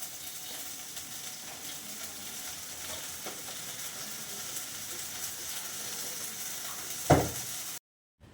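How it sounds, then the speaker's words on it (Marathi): Cumin, mustard seeds, onion, chilli and peanuts crackle in hot peanut oil for mashed eggplant bharit, a steady close sizzle that flares with one loud burst near the end before stopping. "भरीत जे बारीक करून घेतलेलं आहे त्याला फोडणी देते."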